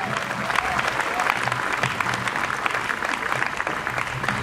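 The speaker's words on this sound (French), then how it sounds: "Acclamons fort pour le Seigneur" Congregation in a church service clapping together, a dense, steady wash of many hands sustained throughout with a faint murmur of voices underneath.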